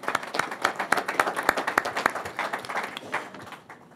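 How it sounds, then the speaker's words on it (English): Audience at a city council meeting breaking into a few seconds of brisk, moderately loud clapping that thins out and fades toward the end. "Give him a clap."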